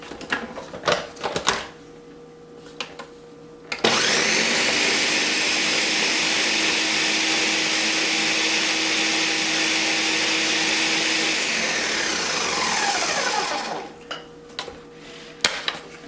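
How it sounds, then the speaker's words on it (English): A kitchen blender whirs loudly and steadily for about ten seconds while blending milk for a homemade steamer, with a few clinks and handling sounds just before it starts and after it stops. "and I'm going to blend this up."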